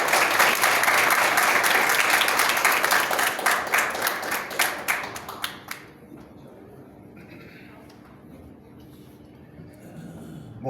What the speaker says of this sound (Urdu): آپ کی بھرپور تالیوں میں ڈاکٹر تیمور الرحمان۔